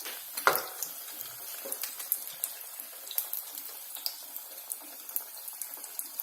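Vermicelli-coated potato cutlets fry in hot oil with a soft, steady crackle and sizzle, scattered small pops punctuating the close, quiet bubbling.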